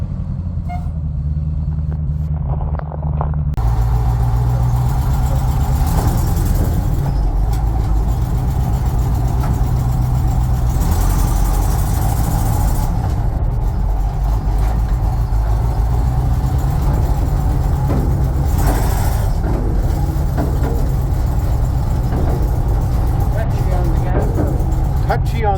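A Bombardier snow vehicle's engine runs loudly and continuously on a test drive after brake work, a heavy, close motor drone that rises and falls with the throttle, with a voice talking at times.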